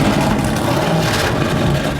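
A Dodge Mopar muscle car with a 426 crate Hemi V8 roars at a car show in a park, a loud, steady, rumbling engine note filling two seconds without talk.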